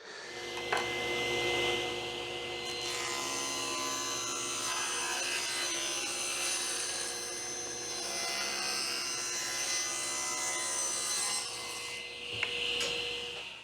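A chisel pares and scrapes wood while repairing wooden beehive equipment, producing a continuous rasping, rubbing scrape close by with small pauses and a sharp click near the end, no voices.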